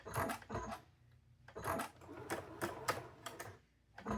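Sewing machine stitching quilt pieces in short mechanical bursts, several runs separated by brief pauses, close and fairly quiet, with no talking; the machine needs cleaning and is catching the thread.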